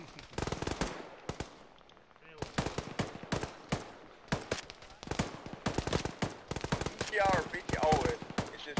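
Arma 3 suppressing fire rattles out as sustained bursts of rifle and machine-gun shots, loud and close, in dense rapid strings with brief pauses, a voice speaking over the gunfire.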